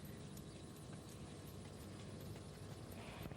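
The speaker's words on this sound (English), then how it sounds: "This is a show walk. It's a slow, collected gait." A horse's hooves clip-clop at a slow, collected show walk, a stepping pace, with soft, evenly spaced footfalls heard faintly and alone.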